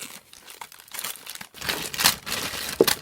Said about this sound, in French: Oh, je casse littéralement le papier.